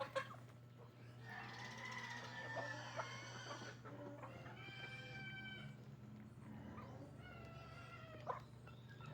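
A group of chickens clucks and squawks in overlapping calls, some drawn out and complaining, fairly faint, over a steady low hum.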